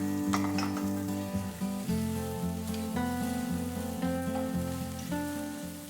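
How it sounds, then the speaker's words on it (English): Carrots and long green beans sautéing in a pan, a steady sizzle with clinking, stirring sounds throughout, close and fairly loud with no voices. "Carrots and long green beans. Saute for another 3 to 4 minutes."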